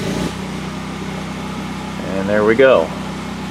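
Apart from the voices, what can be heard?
DuroMax XP10000E generator engine starting and running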